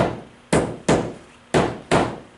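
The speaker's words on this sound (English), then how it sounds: "as he walks the hammer across, when he's not on the rafter, it sounds a bit more hollow" Four sharp hammer taps on a roof, tapping across the rafters, land at uneven intervals, each a solid knock with a short ringing decay, close by with no talking.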